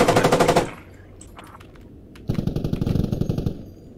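Machine-gun fire in a tank combat video game, heard as two loud, rapid bursts of rattling shots separated by a short lull, with no talk over them.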